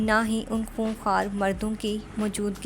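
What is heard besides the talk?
No distinct noise like a dog, phone or traffic.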